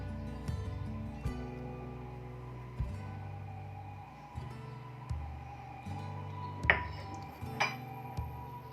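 A spatula mixing orange cake batter of sugar, salt, orange zest and oil in a bowl, with soft repeated scraping and dull clinks against the bowl at an uneven rhythm, quiet and close.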